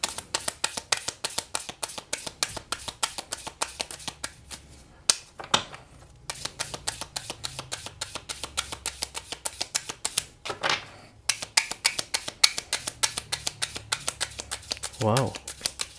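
Tarot cards being shuffled by hand, a long run of rapid crisp riffling clicks with a few brief pauses and a softer patch, close to the mic with no talk over it.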